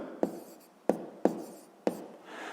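A pen writes out a maths solution on paper, four quick close strokes with sharp starts and fading tails, quiet and alone.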